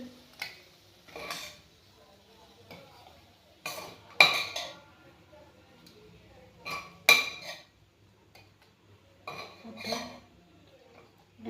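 Cooked tomato chutney ingredients being spooned into a mixer jar, with scattered metallic clinks and taps of a spoon on the steel jar rim between quiet pauses, close and distinct, with some speech.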